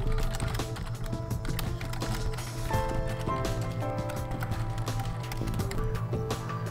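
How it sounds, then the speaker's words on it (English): Typing HTML in Notepad on a computer keyboard, a rapid, continuous patter of key taps over a steady background tone, close and fairly quiet, with no talk. "then just start typing your HTML"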